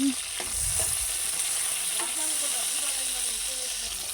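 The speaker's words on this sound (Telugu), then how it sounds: "వంకాయ ముక్కలు సగం మగ్గిన తర్వాత అందులోనే టమాటా ముక్కలను వేసుకొని మగ్గించుకోవాలి" Eggplant and tomato pieces softening in a hot pan give a steady close hiss and sizzle with occasional soft stirring scrapes, faint tonal sounds drifting underneath.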